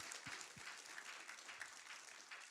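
Faint, distant audience applause at a Veritas Forum discussion on friendship, a soft steady wash of many hands clapping with a couple of nearby thumps.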